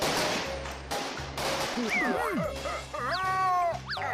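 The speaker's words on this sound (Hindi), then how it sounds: "यहाँ सामने आतिशबाजी हो रही है।" Fireworks going off in an animated Hindi film: repeated whistling launches that rise and fall, broken up by dull thumping bursts, loud and continuous over a busy background.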